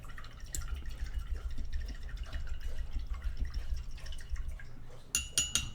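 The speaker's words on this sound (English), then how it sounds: "Now we're going to rinse off our brush." A paintbrush being rinsed in a water cup while painting, with steady swishing and dripping close up, ending in a few louder splashes and taps as the brush is knocked against the rim.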